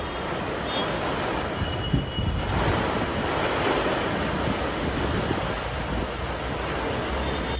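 A steady, roaring rush of falling water from a three-tiered waterfall in Cherrapunji, Meghalaya, during the monsoon, loud and unbroken throughout, with no voices.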